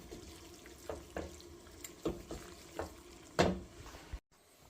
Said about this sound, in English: So we'll get that pesto stirred in there.